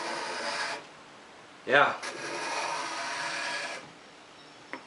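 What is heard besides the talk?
homemade card scraper scraping wood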